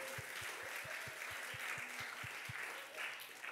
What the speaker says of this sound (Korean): 주님께 감사의 박수